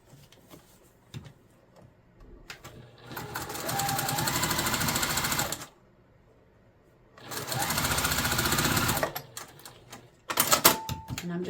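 A sewing machine stitches quilt pieces in two loud close bursts of rapid mechanical chatter, each lasting a few seconds, separated by quiet pauses and small handling clicks.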